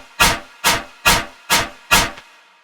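Metallic synth tone run through a frequency shifter in echo mode with the smear knob raised and pitch lowered, five evenly spaced bright hissy bursts each decaying quickly, loud and alone.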